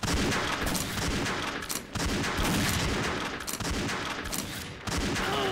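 Sniper rifle shots and other game gunfire boom repeatedly in an XSHOT deathmatch, loud and dense with short pauses between volleys, and no talking.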